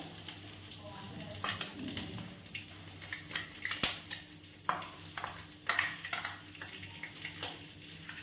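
Finely powdered coconut is fried and stirred in a pan for coconut rice, giving a soft, steady sizzle. Spatula scrapes and light metallic clinks land in irregular strokes, close and fairly quiet.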